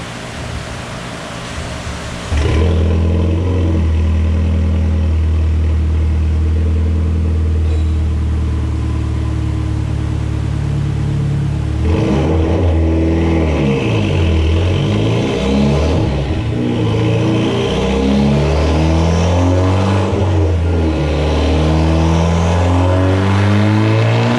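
A tuned Mitsubishi Evo X with an MHI 18k turbo, 1050X injectors, ETS intercooler and intake on flex fuel runs hard on a dyno, starting with a brief idle then a loud, sustained wide-open pull, its engine tone rising steadily alone.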